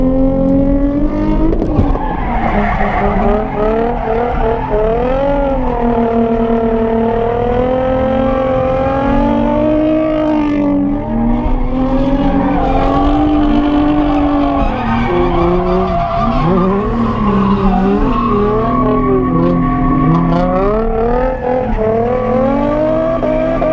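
A Cream Z drift car's engine revs hard and loud, wavering up and down over sustained tire squeal as it drifts through a tandem layout, close and continuous with no voices.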